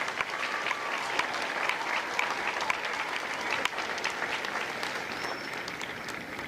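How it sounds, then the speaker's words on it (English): A crowd applauds at a Marine recruit graduation ceremony for Lima Company at MCRD San Diego. The sustained, dense clapping of many spectators holds steady with a few louder claps scattered through it. "Please join me in a round of applause for the company staff of Lima Company."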